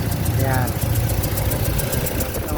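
A Toyota Fortuner engine idles with low power, a steady mid-pitched rumble running continuously throughout, close and loud, while someone briefly speaks over it.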